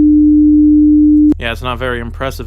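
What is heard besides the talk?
300 Hz sine wave tone generated in audio software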